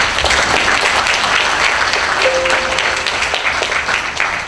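Steady, dense applause from the audience at a government innovation event in a hall, loud and unbroken throughout, with a brief faint tone partway through.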